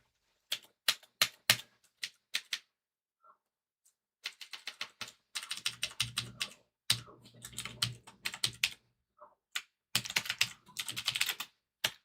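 Bursts of computer keyboard typing during a live Linux operating system install, clustered keystrokes in quick runs separated by short pauses, close and clear with no talking.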